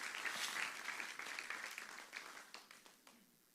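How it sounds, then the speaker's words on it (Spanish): A church congregation applauds with scattered clapping that starts strong and gradually dies away, heard at a moderate distance. "denle un aplauso fuerte a Dios si usted es un cristiano"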